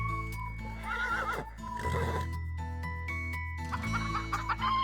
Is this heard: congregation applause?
no